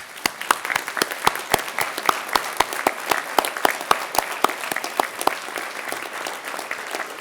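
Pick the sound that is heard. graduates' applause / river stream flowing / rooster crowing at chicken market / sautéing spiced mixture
graduates' applause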